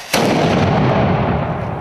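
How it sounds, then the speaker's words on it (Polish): A ceremonial cannon salute fired by the Wejherowo marksmen's brotherhood at a town commemoration: one sudden loud boom followed by a long rolling outdoor rumble that slowly fades, with no voices. "Salwę armatnią oddało Kurkowe Bractwo Strzeleckie z Wejherowa"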